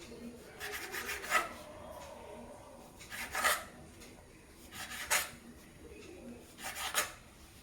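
A knife rasps through slices of bread, cutting away the crusts in four separate scraping bursts, close and fairly soft against a quiet kitchen background.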